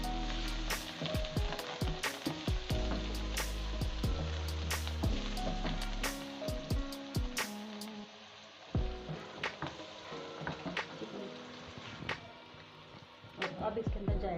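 Green onion and green chilies fry in a pan with a low, steady sizzle, broken by sharp clicks and clinks of a utensil. A voice talks faintly at times.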